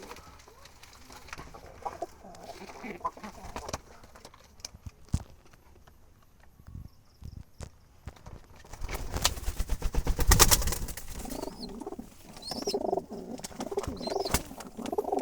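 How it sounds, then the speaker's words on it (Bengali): Jalali wild pigeons cooing in soft, repeated throaty calls, fairly close and quiet, with scattered clicks and a busier burst of wing and movement noise partway through. "ফুল ফ্রেশ, একেবারে জঙ্গলি জালালি বুনো কবুতর এগুলো।"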